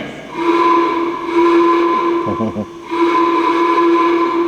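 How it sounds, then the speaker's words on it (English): An old Ford car horn sound effect on a theatre organ: a loud, sustained horn tone blares, breaks off briefly with a short sputtering sound, then resumes steady and strong. "that's the old Ford horn, of course."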